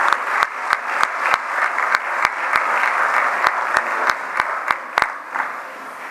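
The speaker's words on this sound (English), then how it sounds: "let's give her a great round of applause for receiving this Mpac Award" An audience at a Muslim council banquet applauds an award recipient, sustained dense clapping from a large room with a few sharp, louder claps standing out near the front.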